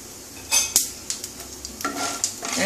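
Black cumin and other spices dropped into hot oil left from frying brinjal, stirred with a utensil: a low steady sizzle broken by several sharp scraping and clinking strokes, close and moderately loud with no talking.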